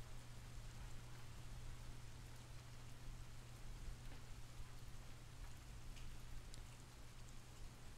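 Steady rain ambience from the Rainy Mood soundscape, a continuous even hiss of falling drops with a low constant hum beneath, soft and unbroken throughout.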